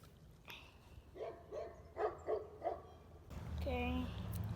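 Dogs bark a few times in quick succession at a distance outdoors near a fishing spot, followed by a louder closer yelp or whine, with faint talking in the background.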